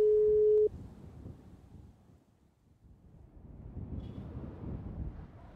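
Phone call disconnected tone in a GTA V roleplay game: a single steady beep for under a second, then a low background rumble and no speech.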